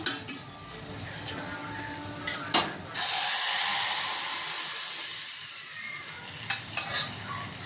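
Asafoetida dropped into hot oil for cucumber dal, with a few clanks of a utensil on the pot, then a sudden loud, bright sizzle that slowly fades, followed by more light clinks. No talking.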